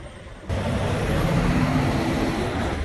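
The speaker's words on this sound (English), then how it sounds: "those trucks are loud coming down the main thoroughfares" Heavy trucks rumble loudly past the corner of Washington and Main in Van Wert, Ohio, a deep, sustained engine roar that starts abruptly and stays close and loud, with a faint high whine over it.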